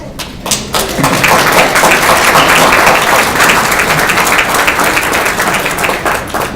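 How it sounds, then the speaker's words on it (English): Sustained audience applause at a talk honoring Dr. Salk, a dense, steady wash of many hands clapping close by that holds for several seconds without voices. "Well-deserved applause"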